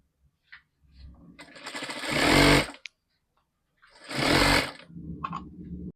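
A sewing machine stitching fabric for a hook or button placket, with bursts of fast whirring run near the machine separated by pauses and small mechanical clicks, loud and close, with no voices.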